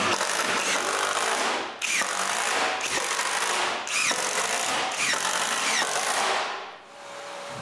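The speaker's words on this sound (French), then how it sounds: "je visse les 2 morceaux ensemble." A power drill drives screws to join two plywood pieces, with four or five long, loud whirring bursts, each cut off by a brief stop, recorded close up with no talking.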